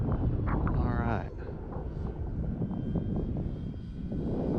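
An E-Flite T-28 1.2m RC airplane drones overhead with a steady electric whine, mixed with wind buffeting on the microphone and a person talking nearby.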